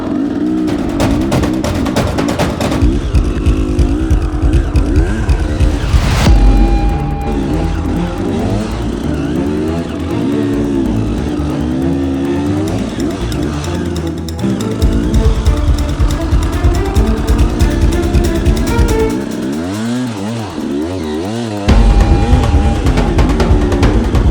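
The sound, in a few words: motorbike engine on a steep rocky obstacle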